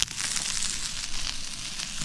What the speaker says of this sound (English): it's frying nicely now